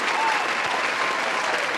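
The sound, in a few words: applause for the speaker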